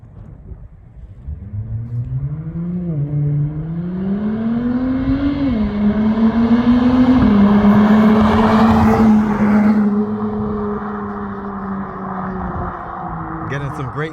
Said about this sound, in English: It's an SUV, and it sounds better than most sports cars out there on the road.